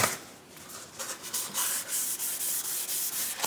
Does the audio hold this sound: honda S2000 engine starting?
no